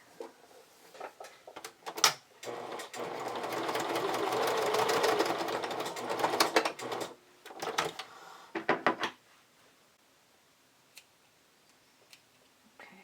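A sewing machine stitches a camisole in a run of rapid mechanical ticking that builds into a steady hum, then stops and starts in shorter bursts before falling quiet apart from a few faint clicks.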